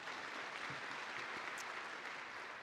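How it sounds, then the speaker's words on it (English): Audience applause at the DeepTech Summit at UM6P, a faint, steady wash of clapping heard from a distance that continues evenly for a few seconds. "Please give him another warm round of applause."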